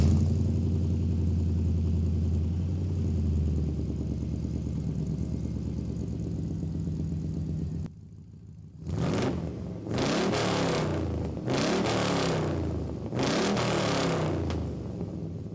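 An LS-swapped 1975 Buick LeSabre convertible idles with a steady burble, then after a brief pause its exhaust barks through several sharp revs in quick succession, loud and close, with no talking.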